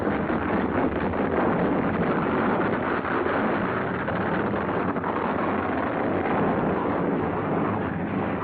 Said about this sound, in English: The north wind reaches the nearest ship, the Yancey.